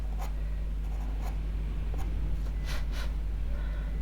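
Pastel pencil strokes on pastel matte paper while an owl is being drawn, giving soft, steady scratchy scraping in short bursts at close range over a constant low hum, with no talking.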